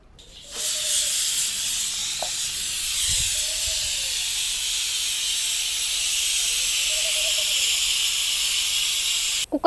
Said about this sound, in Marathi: त्या दोन शिट्ट्या झालेल्या आहेत कुकर आता खाली उतरून घेऊ